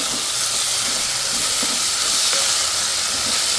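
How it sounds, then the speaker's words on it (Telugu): Ingredients for a masala curry with broad beans frying in a pan, a steady close hiss and sizzle running throughout with no one talking. "చూసారా ఫ్రై అవుతుంది కదండి."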